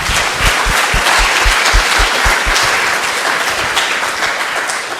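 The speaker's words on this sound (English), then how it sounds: "One more round of applause for all the ALDFG talk." A large conference audience applauds after a talk on abandoned, lost or discarded fishing gear, with loud, sustained crowd clapping and a few strong individual claps standing out near the front early on.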